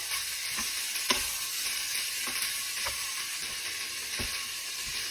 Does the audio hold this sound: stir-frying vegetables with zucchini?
yes